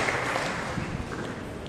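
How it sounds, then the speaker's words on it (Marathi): Audience applause welcoming a priest at a First Friday church service: a short, steady burst of many hands clapping together, fairly close and even throughout, with no talking over it. "त्यांना आपण टाळ्या वाजवून आपण त्यांचं स्वागत करूया"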